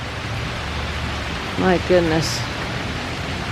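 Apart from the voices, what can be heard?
heavy rain pouring down outdoors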